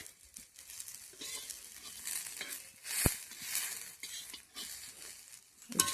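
Bitter gourd fries in a pan, a soft intermittent sizzle broken by the scrape of a spatula and one sharp utensil clink.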